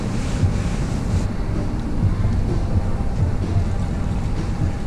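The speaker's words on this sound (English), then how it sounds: "Gotta empty out the used coolant so we can dispose of it" Used original green Honda coolant drains from a 1998 Integra GSR turbo, a steady rushing, splashing pour with broad low wash that holds constant for the whole stretch, fairly loud and close, with no talking.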